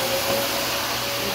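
A vacuum cleaner runs nearby with a steady, loud whine and hum, unbroken throughout.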